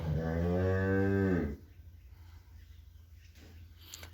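A bull lows in one long, loud, close moo lasting over a second, followed by a quiet stretch with faint breathing.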